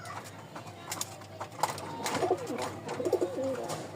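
Racing pigeons coo in low, throaty bursts, several overlapping calls close by, with scattered clicks and shuffling in the background.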